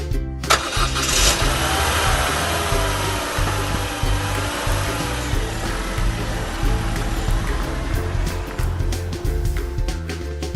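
A car engine cranks and catches, then keeps running with a steady mid-pitched drone as the vehicle pulls away, loud and close throughout with scattered rattles and clicks on top.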